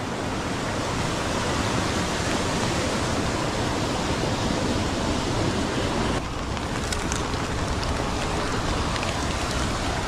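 A creek pours into a tunnel with a loud, dense, continuous rush of broadband water noise, the roar shifting slightly in tone partway through.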